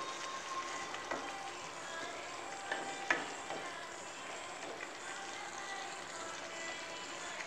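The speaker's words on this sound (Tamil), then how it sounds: "இஞ்சி பூண்டு வந்து உங்களுக்கு பச்சை வாசனை போகிற வரைக்கும் நல்லா வதக்கிக்கோங்க." Ginger garlic paste sautés in a pan for a homestyle egg gravy, giving a steady, close sizzle with a few light clicks from stirring.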